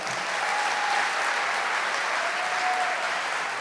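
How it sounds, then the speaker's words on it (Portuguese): Worshippers at a religious gathering give a loud, sustained round of clapping, a dense and steady wash of many hands lasting the whole moment without a break. "dá uma salva de palmas para Nossa Senhora"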